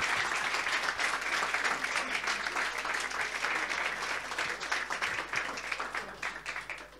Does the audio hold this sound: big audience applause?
yes